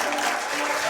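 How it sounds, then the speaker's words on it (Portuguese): Brief burst of studio audience applause on a Brazilian comedy news show, a dense wash of clapping filling the whole moment with no talk over it. "Palmas pra ele"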